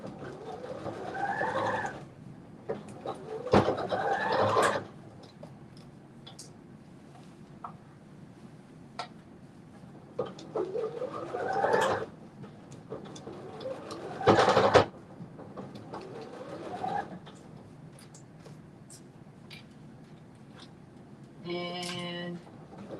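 A sewing machine stitches a dress into a dress shirt, running in several short, rhythmic bursts of fast mechanical whirring with quiet pauses between them.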